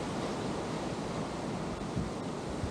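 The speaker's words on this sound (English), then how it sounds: "The water running over the rock and limestone" Water pours over rock and limestone at a Havasupai waterfall, a steady, broad rushing hiss heard close and continuous, with no voices.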